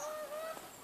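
A gander gives a honk, a short nasal call with a steady pitch heard alone and fairly faint against a quiet background.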